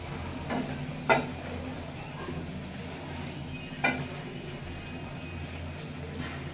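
Cabbage and mustard flower fritters fry in hot oil with a steady low sizzle, broken by two brief sharper crackles or stirring clicks.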